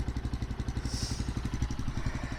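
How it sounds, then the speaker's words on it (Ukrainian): A motorcycle engine idles steadily after being revved, settling at an even, rapid low chug with a faint metallic clatter and no voices. "Після прогазовки мотоцикл не повинен заглохнути, ні в якому випадку."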